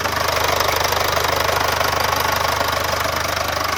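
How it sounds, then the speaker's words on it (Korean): The diesel engine of a Mercedes-Benz GLC220d 4MATIC coupe idles steadily up close, with a constant rhythmic knocking rumble and a broad hiss, no voices. "자 바로 엔진음 들려드릴게요"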